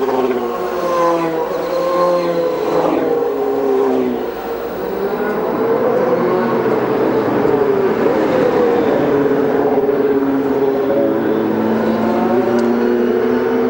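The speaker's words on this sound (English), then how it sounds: "The cars have been lapping in about 1 minute" IndyCar race cars at the 2007 Steelback Grand Prix of Toronto lap under caution, their engines droning loud and close with rising and falling pitch as several cars pass in a steady stream.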